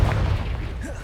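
Confringo blasting spell from the Hogwarts Legacy video game going off as a deep, booming explosion over a continuous low rumble of battle noise, loud and close for about a second.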